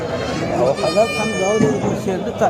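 Goats and sheep at the Sangola livestock market, several wavering bleats rising over one another at close range amid the chatter of people talking.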